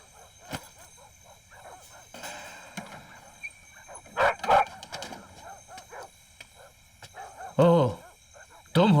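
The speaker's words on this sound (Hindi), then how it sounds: "कुत्ते इतनी जोर जोर से भौंक रहे हैं" Several dogs bark and yip loudly in bursts, some close and some farther off, with whimpers and background voices in between.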